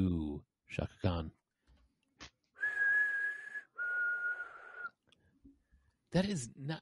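A person whistles a couple of long, steady sustained notes in the middle, framed by bursts of talking before and after.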